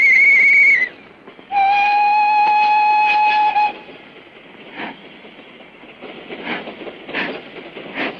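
A train on the move, with two loud steady whistle blasts followed by rhythmic clattering of wheels over rail joints in repeated bursts.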